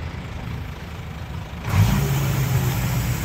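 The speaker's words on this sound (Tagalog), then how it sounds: "K6A engine." A Suzuki K6A engine runs at a steady idle, then its note swells at about the halfway point into a louder, fuller rumble that holds to the end. Nobody speaks.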